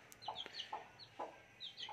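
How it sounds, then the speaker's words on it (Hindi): A hen with two chicks in a backyard poultry setup gives soft, repeated clucks, while high chick peeps chirp in between. The sounds are quiet and close, with no talking. "ये एक मुर्गी है, उसके ये दो चूज़े हैं"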